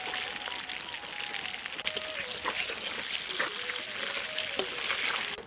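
Bay leaf, cinnamon, clove, cardamom and cumin crackle in hot oil, a steady close hiss with small pops and faint stirring scrapes throughout, and no talking.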